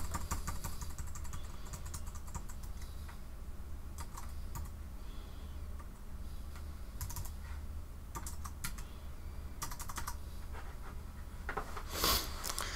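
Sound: typing credit card information on a computer keyboard

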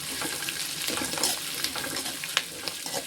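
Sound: green chillies frying with onions for vermicelli kichadi

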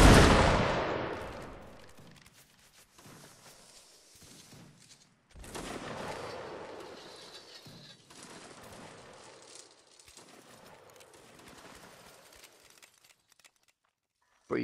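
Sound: musket volley fired by line infantry, video game Napoleonic Wars

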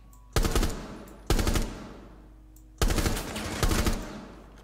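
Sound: gunfire from a video game, Rainbow Six Siege

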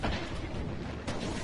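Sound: gunfire in the video game Destiny Crucible

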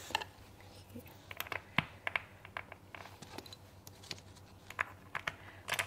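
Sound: typing on LeoBog mechanical keyboard switches with new keycaps

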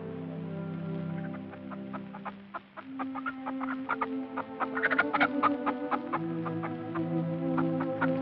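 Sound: chickens clucking

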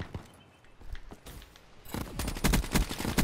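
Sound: gunfire in a shooter video game

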